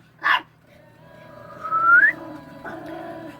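A dog lets out one short, sharp bark near the start, then a whining, rising whimper-like tone follows, with a fainter yelp later; the sounds are close and come without talking.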